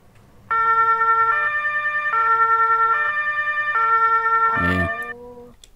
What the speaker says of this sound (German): Warte, ich mach mal die Sirene an.